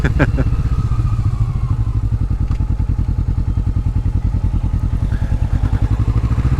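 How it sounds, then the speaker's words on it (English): A Kawasaki motorcycle ridden on a road gives a steady, loud engine drone with a rapid pulsing throb, close up, under a constant hiss of wind noise. "It's probably more the helmet and the noise of the bike"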